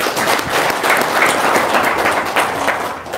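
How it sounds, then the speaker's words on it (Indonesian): An audience breaks into brief, loud applause, thick overlapping clapping that stays steady for a few seconds and then tapers off. "Tepuk tangan dulu dong."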